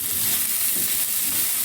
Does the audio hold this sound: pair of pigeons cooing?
no